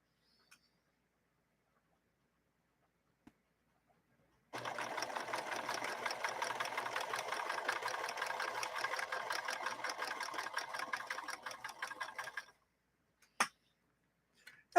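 A 1964 Montgomery Ward sewing machine runs a decorative stitch for about eight seconds, a fast steady mechanical whirr with rapid ticking, starting and stopping abruptly, followed by a single sharp click in otherwise quiet surroundings.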